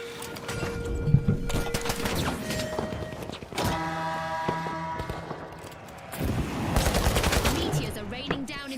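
Gunfire and explosions from the online shooter The Finals, with scattered shots, booming hits and tonal effects layered in a busy, fairly loud mix that dips briefly midway before building again.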